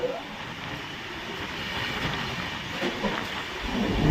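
Interior of a moving passenger train travelling from Penukonda toward Vijayawada, a steady rumbling roar with a broad hiss and faint rhythmic wheel clatter, continuous and fairly close, rising slightly near the end.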